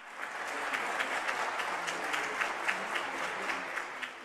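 Crowd applause at the Mexican Stock Exchange, a steady, moderately distant wash of clapping with occasional sharper individual claps standing out, no voices on top.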